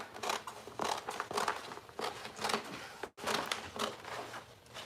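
Scissors cutting a shape out of material for a furniture painting project, a steady run of close crisp snips and paper crinkles with a brief pause partway through.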